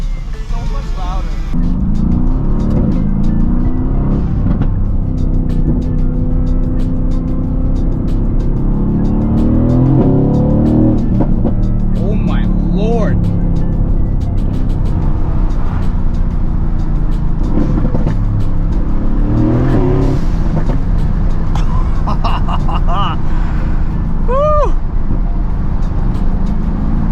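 Mercedes-AMG GT S with a secondary catalytic converter delete, its loud exhaust revving and surging near the microphone with crackling pops over a steady engine roar, while a person talks over it.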